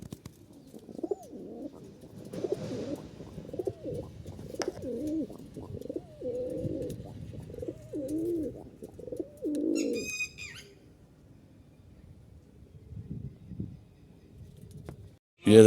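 Punjabi Malwai pigeons coo close by in repeated low, throaty phrases, followed by a brief high chirp and a quieter stretch.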